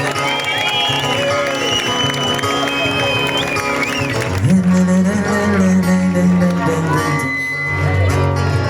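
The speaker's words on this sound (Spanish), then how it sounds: "Un aplauso para Santi a la guitarra." Crowd applause for a guitarist at an outdoor night event in A Coruña, mixed with music and cheering, with a voice speaking over it early and the clapping continuing under guitar and song.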